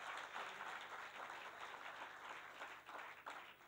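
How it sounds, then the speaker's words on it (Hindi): A large audience breaks into sustained applause to welcome a guest onto a Hindi talk-show stage, a dense, even wash of clapping that holds steady throughout. "फ्रेंड्स, जोरदार तालियों से स्वागत करिए"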